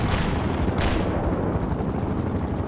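A dense artillery barrage in the Cold War strategy game World in Conflict, with loud, continuous booming and rumbling blasts that overlap into a heavy roar, including a sharp fresh impact near the one-second mark, with no voices.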